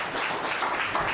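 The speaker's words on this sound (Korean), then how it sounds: "많은 박수를 부탁드립니다" Applause fills a 2013 Gyeongbuk disabled sports association award ceremony, a steady, dense wash of clapping from a crowd that holds at an even level throughout the short moment with no voices above it.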